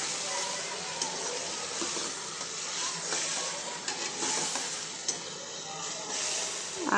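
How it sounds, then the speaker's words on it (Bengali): Turmeric and chili powder sauté in a pan for a vegetable dish with pabda fish, giving a steady close sizzle and hiss throughout, broken by faint scrapes and taps from stirring. "এখানে হলুদ মরিচ, হলুদের গুঁড়া, মরিচের গুঁড়া দিয়ে নিলাম, দিয়ে এটাকে একটু কষিয়ে নিতেছি"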